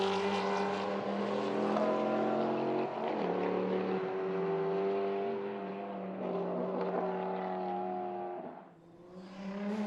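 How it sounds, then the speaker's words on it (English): An Audi Quattro and a Maserati Trofeo race on a Targa NZ tarmac rally stage, their engines a loud, sustained drone that shifts pitch as they run close together, then dips briefly near the end. "Chris Lane's Audi Quattro locked in battle with Paul Halford's Maserati Trofeo"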